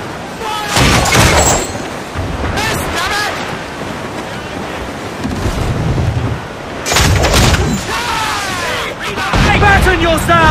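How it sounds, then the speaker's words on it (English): Cannon fire from a sailing ship in Assassin's Creed Black Flag, heavy booming shots against wind and crashing ocean surf, with voices shouting between volleys. "Use chain shot to slow her down!"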